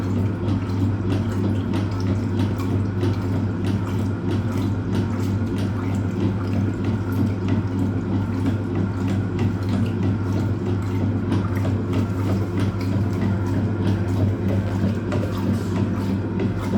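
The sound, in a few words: Hoover Automatic 820 washing machine rinse water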